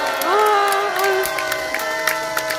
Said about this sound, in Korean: 압도적인 박수를 보내주시기 바랍니다